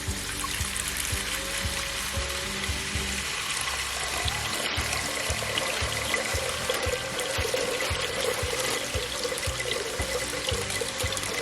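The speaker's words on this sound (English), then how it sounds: "We'll go ahead and fill our pot up with water." Tap water runs steadily into a cooking pot in a home kitchen while beef stroganoff is being prepared, a continuous hissing, splashing stream without pause and with no talking.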